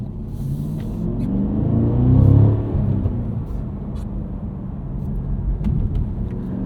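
A supercharged V8 Cadillac CT5-V Blackwing sedan on snow tires rumbles from inside the cabin, engine note swelling into a brief rev around the middle before settling back to a steady low drone.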